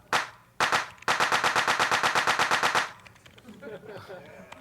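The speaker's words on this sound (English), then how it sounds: "then we need the crappy drum sort of fill before we bring back crappy sounds" A rapid, evenly spaced burst of punchy electronic drum hits from tracker software, loud and dry, after two single hits, then fading into quieter clutter.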